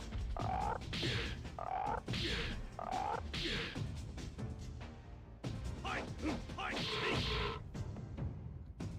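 Frog enemies in Legend of Legaia battle with repeated croaking calls and hit effects, dense game sounds throughout with a voice talking over them.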